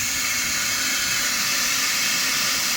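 Water runs steadily into a motorcycle fuel tank during a flushing rinse in a custom bike workshop, a continuous loud hissing rush with no pauses and no voices.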